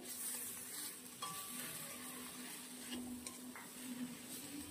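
Ginger garlic paste and spices being stirred into green beans in a hot pan, a faint steady sizzle with soft scraping strokes of a utensil, no talk.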